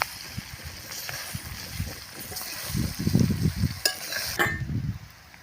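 Patra rolls are turned over gently in a frying pan, giving soft scraping and stirring sounds over a light sizzle, close by, with a voice talking at times.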